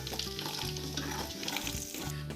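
Panch phoron, dried red chillies, salt and cumin-coriander powder frying in hot oil in a wok for olive pickle, a close, steady sizzle broken by a few stirring scrapes.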